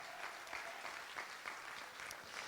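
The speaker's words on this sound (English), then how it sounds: "Let's give them a big round of applause." Steady audience applause at a charity gala, many hands clapping together in a dense, sustained wash that holds evenly without a break.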